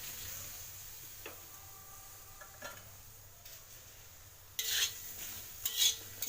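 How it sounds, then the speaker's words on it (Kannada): Okra frying in a pan, with a soft steady sizzle and occasional light clinks of a spoon stirring, louder scraping stirs near the end; no talking. "ಇವಾಗ ಫ್ರೈ ಮಾಡೋಕೆ ಇಟ್ಟಿದ್ದೀನಿ ಎಲ್ಲ ಬೆಂಡೆಕಾಯನ್ನು ಫ್ರೈ ಹಾಕಿ"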